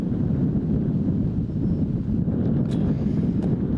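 Steady wind roars and buffets across an outdoor disc golf course, a constant low rumble without a break and with no voices.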